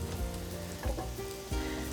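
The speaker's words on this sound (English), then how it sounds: "You'll start to hear them sizzle" Short burst of close pan sizzling as chard stems cook, a soft crackling hiss with a couple of brief stirring scrapes, no voices.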